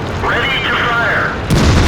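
Someone talks over a steady hum, then a T49 tank destroyer's gun fires once in a tank video game: one loud, deep boom near the end.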